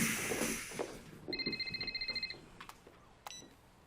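An indoor telephone bell rings in a quick electronic trill, one clear burst of rapid repeated pulses heard alone, followed by faint handling noises.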